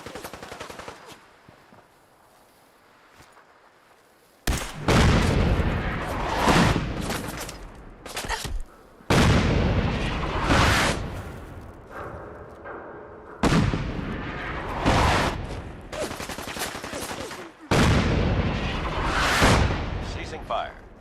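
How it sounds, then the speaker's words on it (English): Artillery strikes in Fallout 4 land as a run of heavy, loud explosive blasts in several separate bursts, each with a long roaring tail. A low rumble fills the gaps between them. "Incoming fire."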